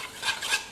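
Sardine marinade of olive oil and paprika being stirred in a bowl, two swishing strokes up close, with a scraping, utensil-on-dish quality and no talk.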